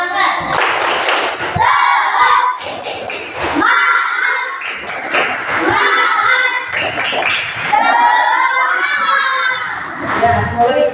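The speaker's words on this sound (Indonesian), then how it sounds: "Coba kita tepuk semangat dulu supaya kita semangat belajarnya" Schoolchildren doing a rhythmic spirit clap (tepuk semangat) in a classroom, loud patterned hand claps mixed with children chanting and shouting together, in repeated bursts with short gaps.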